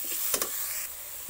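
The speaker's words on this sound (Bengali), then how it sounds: "আমি এখানে 1 চামচের মতো জিরা শসা বাটা দিচ্ছি, এটাও ভালো করে কষিয়ে নেব" A spoonful of cumin paste frying in a hot pan gives a steady, close sizzle, with two quick stirring scrapes near the start and a softer one at the end.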